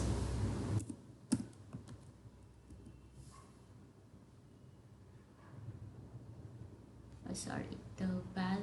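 Close typing on a computer keyboard while writing an XPath in Selenium, soft rapid key clicks in short bursts under steady background noise, with a voice talking over parts of it.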